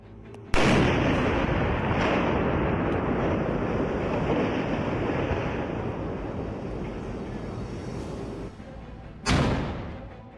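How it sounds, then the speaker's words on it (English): A sudden loud blast from the controlled demolition of the 89-year-old Elk River Bridge erupts, followed by a long, roaring rumble that slowly fades, then a second sharp boom near the end. "The 89-year-old Elk River Bridge officially ended its tenure in a controlled explosion."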